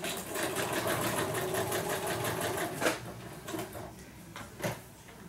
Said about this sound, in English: I'm just over here at the machine, stitching this all down together.